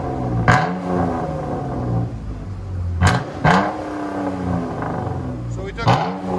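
A 2016 Chrysler 200 V6 with its muffler and resonator removed, running straight-pipe dual exhaust, idles with a deep rumble and then revs in several sharp blips. The car is close and loud, and people can be heard talking under it.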